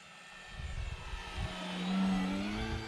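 An FMS Big Pitts V2 radio-controlled model airplane makes a high-speed pass, its engine hum building as it approaches and peaking in a loud whining drone near the end, with no talking.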